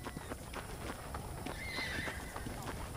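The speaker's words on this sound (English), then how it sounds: "vamos para allá con el caballo." A horse ridden in Red Dead Redemption neighs over rapid clip-clop hoofbeats, with a voice talking over it.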